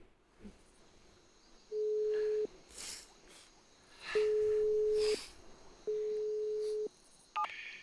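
Ringback tone heard while phoning a late-night radio station: three long, steady beeps separated by pauses over faint background hiss, ending with a brief higher tone.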